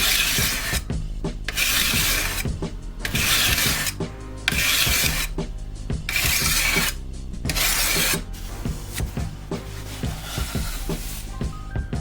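Horseshoe knife being sharpened on a diamond stone, with about seven rhythmic rasping strokes separated by short pauses, close and fairly loud.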